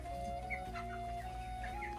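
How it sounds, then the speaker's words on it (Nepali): Young chickens in a coop of a few hundred birds cluck and chirp in overlapping bursts over a constant mechanical hum, the calls moderately close and continuous. "चल्लाहरू सानो थियो, अहिले चाहिँ ठुल्ठुला हल्का ठुला भएको छ"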